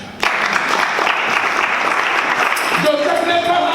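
Church congregation applauding during a sermon, loud, close clapping that bursts in abruptly and continues steadily, with voices and cheering mixed in toward the end.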